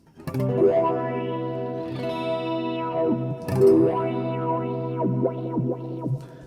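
Distorted electric guitar chords through an Axe-FX III wah, pedal fully down, ring out with a swelling, vowel-like wah sweep, held bright and nasal through sustained notes.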